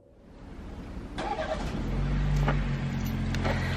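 A car engine starts up and settles into a steady idle as it warms, a low continuous rumble close by on a snowy Canadian day.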